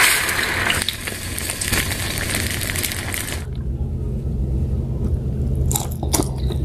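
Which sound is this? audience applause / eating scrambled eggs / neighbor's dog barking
eating scrambled eggs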